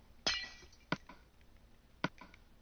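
Glass panes being placed in the Minecraft video game: three sharp, crisp clinking clicks spaced unevenly apart, each with a short glassy ring, over a quiet background.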